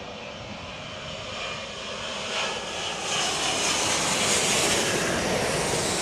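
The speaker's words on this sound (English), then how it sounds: "Speedbird now arriving here at Chicago O'Hare. That 777-200." A heavy British Airways Boeing 777-200 jet arriving at Chicago O'Hare, its broadband engine roar swelling steadily louder and closer across the whole span, no voices over it.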